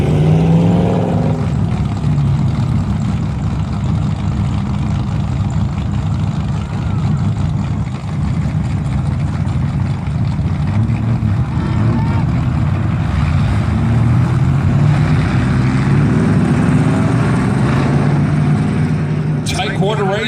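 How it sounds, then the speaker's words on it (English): Modified-class race cars on the oval at Valley Raceway during a feature race, a continuous engine roar throughout with a commentator talking over it. "Here goes Mike Hunt in the 88, an old Speedway Mirror machine car here at Valley Raceway."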